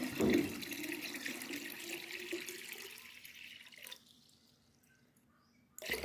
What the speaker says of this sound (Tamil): இப்போ நம்ம 5 லிட்டர் ஊற்றிட்டோம்